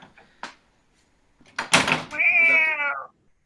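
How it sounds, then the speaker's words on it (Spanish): A house cat lets out a drawn, tonal meow just after a couple of sharp knocks and rustles as a door is opened to let it out. The meow is close and clear against a quiet room. "Esperen que dejo salir al gato."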